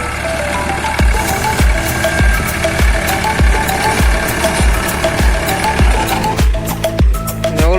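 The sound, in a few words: tractor with cutter running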